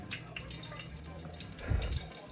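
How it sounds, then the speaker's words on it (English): Breaded chicken pieces are lowered into a bowl of room-temperature water while making Jamaican-style fried chicken, giving a soft watery plop and slosh near the end after quiet kitchen background. "So after I bread, shake it off and just put it into the water."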